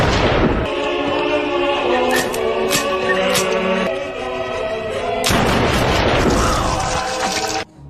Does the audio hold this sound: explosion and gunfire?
yes